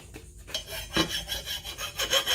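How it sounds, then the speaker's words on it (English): A hand file scrapes the burr off the edge of a new $20 lawn mower blade in a few quick, rhythmic rasping strokes, close and fairly quiet, with no voices. "Take off the burr."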